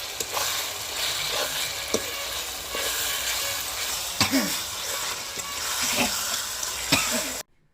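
Country chicken frying in a pan for curry during a village Pongal festival, with a steady loud sizzle and occasional stirring scrapes throughout, and no talking.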